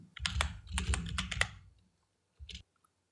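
Typing on a computer keyboard at a desk: a quick burst of close, crisp keystrokes for about a second and a half, then a short pause and one final tap, with no talking.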